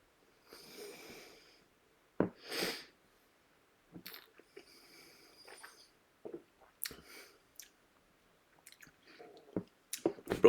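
Tasting cask strength peated Irish whiskey: close, quiet sips, slurps and mouth smacks come in short scattered bursts with silence between them.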